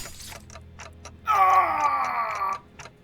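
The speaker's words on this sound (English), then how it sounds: "Yep, ticking is all I can hear." Clockman in the video game Limbus Company ticks in a steady, rapid rhythm of crisp clicks, with a loud groaning wail swelling over the ticking midway before fading back to clicks alone.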